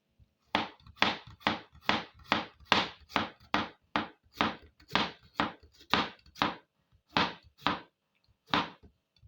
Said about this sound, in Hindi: अब इसी तरह राउंड शेप में ही खीरा भी काटेंगे